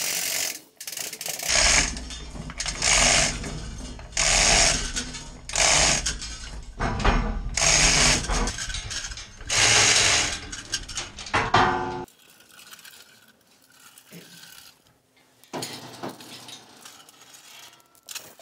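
A chain hoist lifts the screen out of a Rotochopper MC-266 grinder in bursts of ratcheting, clanking chain and gear noise, loud and close, then drops to quieter scattered clicks and rattles.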